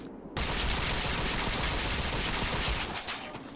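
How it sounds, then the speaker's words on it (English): A crossbow in the Vindictus game fires like an automatic rifle, a loud, dense, unbroken burst of rapid shots that starts abruptly and runs about three seconds before tailing off. "We can try the crossbow a little bit."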